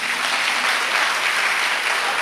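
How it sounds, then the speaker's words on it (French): A church congregation claps together in steady, dense applause, moderately loud and continuous, with no voices standing out above it. "On acclame le Seigneur."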